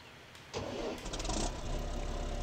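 A tractor engine in the farming game Farming Simulator 17 starts up about halfway in, turning over and settling into a steady mid-pitched running drone, loud and alone with no talk.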